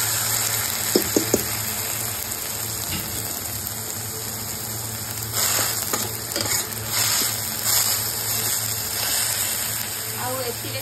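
Ginger and garlic paste sizzles steadily in hot oil for an egg paneer dish, a loud, continuous frying hiss with a few stirring scrapes and brief clinks near the start.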